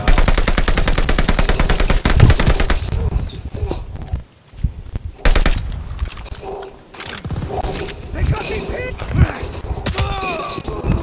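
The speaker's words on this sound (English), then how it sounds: "I'm providing suppressive fire for my cousin over here" Rapid automatic gunfire from Call of Duty: Vanguard hammers away loudly in dense bursts for the first few seconds, then breaks into scattered single shots and impacts over game noise.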